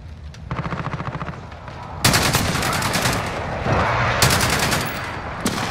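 Call of Duty gunfire rattles in fast automatic bursts, first a lighter rhythmic stutter, then heavy loud volleys that come in waves and stop short near the end.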